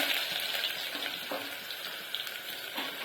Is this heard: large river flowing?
no